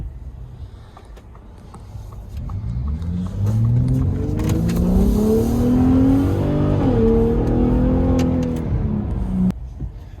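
A 2021 third-generation Ford Raptor pickup drives past close by, its engine droning steadily and rising in pitch as it accelerates, the sound swelling and then easing away, with no voices.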